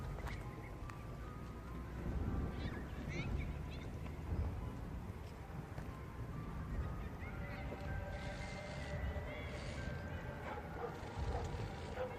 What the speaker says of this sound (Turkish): Bak şu köpek sesleri beni korkutuyor.